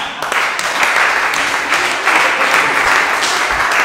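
An audience at a stand-up comedy show breaks into loud, sustained applause, dense clapping filling the room with no talk.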